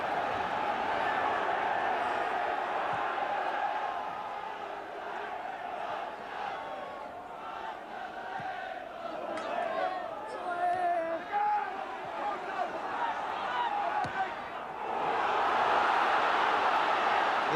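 Football crowd at a snowy 1980s Barnsley versus Portsmouth league match, a steady roar of massed voices swelling and easing, growing louder and more excited near the end.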